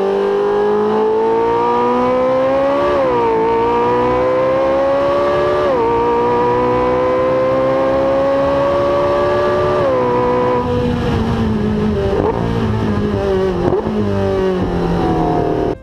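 A Porsche 918 Spyder's 4.6-liter V8 drones loudly and close, revving in several rising pulls with brief dips between gear changes, then settling into a rougher, lower rumble with a few sharp blips.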